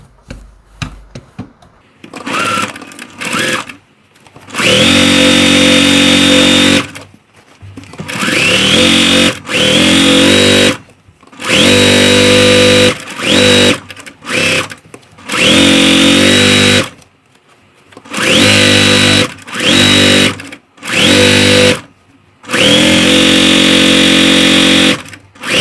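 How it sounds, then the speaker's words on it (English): A sewing machine sews quilt rows joined with sashing, running in loud, close bursts of steady motor whir. Short pauses and handling clicks break up the runs. "now I'm going to sew the top row with the sashing to the bottom row with the sashing."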